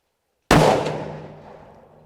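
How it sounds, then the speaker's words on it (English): A single rifle shot fired at a target on a range, a sharp loud crack after a moment of silence, followed by a long decaying echo rolling away over more than a second. "take another cartridge, I'm going to put it in, take a shot and see what happens"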